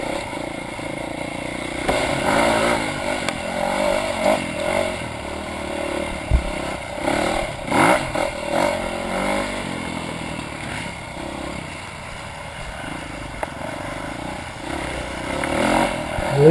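A motorcycle climbs a rocky waterfall trail with no working clutch, its engine rising and falling in uneven revs while rocks clatter and scrape underneath.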